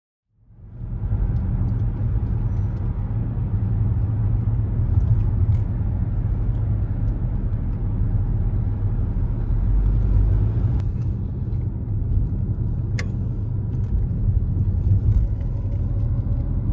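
Inside a car on a long road drive toward the Slovakia border, a steady low engine and road rumble holds constant for the whole stretch, with a couple of faint clicks and no talk.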